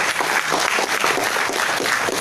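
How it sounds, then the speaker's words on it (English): An audience at a school debate on social media claps for both teams: a brief, dense burst of steady applause with a faint crowd murmur. "Give a round of huge round of applause for both the teams."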